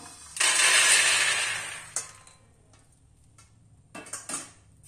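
A rattling, rushing pour of peanuts into a metal pot lasts over a second, followed by a few quieter clinks and taps.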